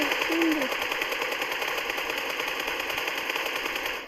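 Gunfire in the PUBG video game training area, a continuous rapid rattle of automatic shots over a steady background hum, moderately loud and uninterrupted for a few seconds.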